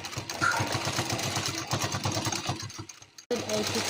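A sewing machine runs in fast, even bursts while stitching a salwar hem, loud and close, with a voice talking over it and a brief pause near the end before the motor resumes.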